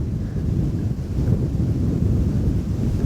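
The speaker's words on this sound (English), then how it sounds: "it was a big headwind" A strong headwind buffets the microphone on a disc golf course, a loud, continuous low rumbling roar with gusty swells and no voices.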